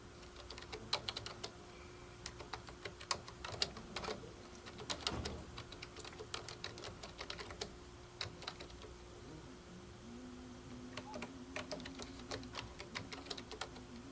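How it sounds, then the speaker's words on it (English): Someone types on a computer keyboard in a quiet room, producing faint, irregular clusters of light key clicks with short pauses between bursts. "So I can type that in"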